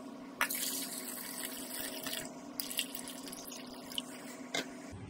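Water is poured off a bowl of soaked lentils or jowar grits in a home kitchen, a soft continuous splashing trickle with a few louder sloshes and drips, fairly close and quiet, with no talk.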